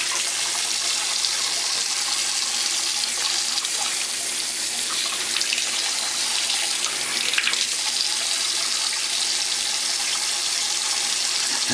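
Water runs steadily from a tap into a sink while dishes are washed, a continuous even splashing hiss with no voices.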